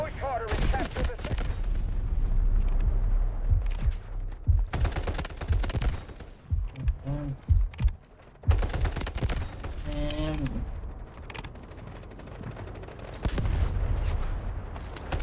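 Rapid bursts of gunfire and booming blasts from a war video game fill most of the stretch, with a few short gaps where an excited voice shouts over the shooting.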